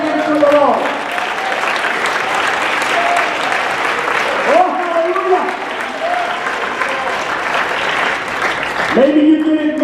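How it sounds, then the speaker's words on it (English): A church congregation on Easter Sunday claps hands continuously and fairly loudly, while voices call out and sing over the clapping at several points. "Clap your hands to the Lord."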